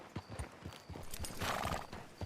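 Horse hooves clip-clop in a steady rhythm in the Red Dead Redemption 2 video game, close and clear, with a brief whinny and a low background murmur.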